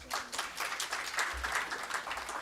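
Audience applause at the Indian Society of Nephrology conference in Lucknow, a steady patter of many hands clapping in a hall, moderately quiet and continuous for a couple of seconds.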